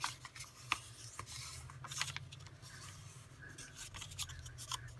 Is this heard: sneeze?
no